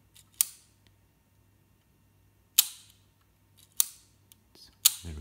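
Four crisp, close mechanical clicks from a Sputnik camera shutter firing at 1/125, spaced by pauses in an otherwise quiet room, with a low murmur at the end.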